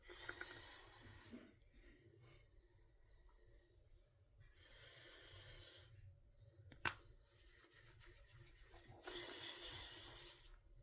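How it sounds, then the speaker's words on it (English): Fingers rub lip and cheek mousse onto the cheekbones in circles, making soft close brushing swishes in three separate bursts of a few seconds each, very faint, with breathing between them. "put some on my cheekbones, and rub it in a circle"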